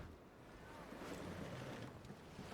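A sailing ship moves across open sea in Assassin's Creed Black Flag, bound for Havana. Steady wind and surging waves wash continuously around the hull, a fairly quiet, even ambience with no talking.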